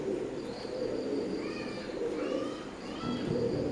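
Teddy pigeons of an Omani bloodline coo softly in a steady low murmur, with faint chirpy calls above and a constant background hum.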